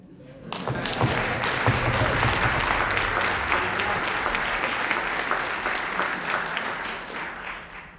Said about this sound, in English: Let us have, first of all, a round of applause to this wonderful Croatian national football team.